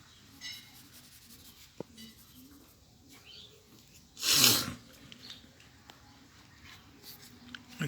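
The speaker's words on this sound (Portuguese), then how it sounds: "Vou desenhar aqui uma orelha" A pencil sketches an ear on paper with soft, faint scratching strokes, broken midway by a single loud breathy burst close to the microphone.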